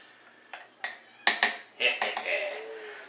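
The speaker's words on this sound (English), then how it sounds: "Let's give this a good little stir." A spoon stirs a ginger beer bug mixture in a jar, producing a run of sharp, irregular clinks against the glass, close and fairly bright, with quiet pauses between strikes.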